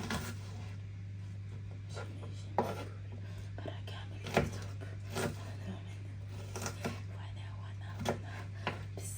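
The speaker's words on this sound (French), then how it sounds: "Je viens découper mon oignon en petits cubes comme ça." An onion is diced into small cubes with a knife on a board, producing sparse, faint taps and cuts at irregular intervals over a steady low hum, with soft murmuring voice in the background.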